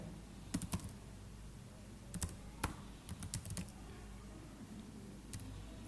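Quiet typing on a computer keyboard at a desk, with short bursts of crisp key clicks separated by pauses, close and alone with no talk.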